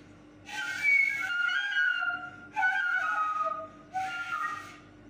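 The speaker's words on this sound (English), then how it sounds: "Now I am trying to whistle my flute." A homemade DIY flute is blown in three sustained breathy notes, each lasting about a second or more with short pauses between them. The tones are clear, whistle-like and close, with no talk.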